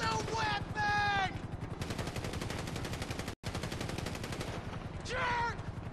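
Automatic gunfire from a GTA V police shootout rattles in rapid, continuous bursts, with shouting voices breaking in at the start and end.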